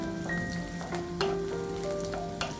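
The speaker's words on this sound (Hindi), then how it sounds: "जैसे ही तेल अच्छी तरह से गर्म हो जाए, इसमें हम डालेंगे लहसुन और इसे सिर्फ 30 सेकेंड के लिए सौते कर लेंगे" Garlic sautéing in hot oil for a short moment, a close, bright sizzle with occasional sharp spatters, alone and without speech, while soft sustained music tones play underneath.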